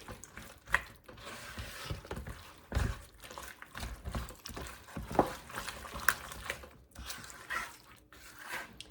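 Casserole ingredients with bacon bits stirred and scraped in a bowl, giving a run of soft, irregular clicks and wet mixing sounds at close range, with no talk.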